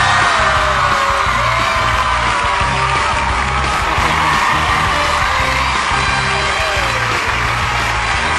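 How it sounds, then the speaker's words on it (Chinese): A studio audience at a TV show loudly applauds and cheers to welcome a guest, a dense continuous roar of clapping, yells and whoops throughout. "让我们掌声欢迎今天的明星校友"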